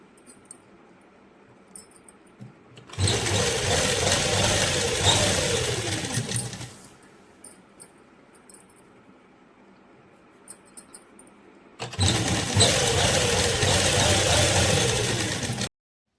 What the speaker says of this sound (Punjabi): ਮਸ਼ੀਨ ਦੇ ਨਾਲ ਪਹਿਲਾਂ ਇਸ ਤਰ੍ਹਾਂ ਰੱਖ ਕੇ ਸੀਨ ਲਾ ਲਾਂਗੇ